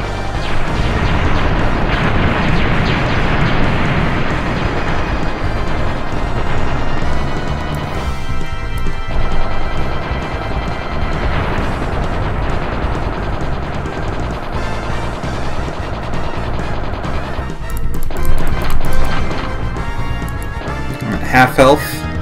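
Sustained unlimited gunfire in the light-gun shooter The Gun Shooting: loud, continuous rapid shots and crashing impacts with explosive booms and game music, unbroken for about twenty seconds, with a voice present.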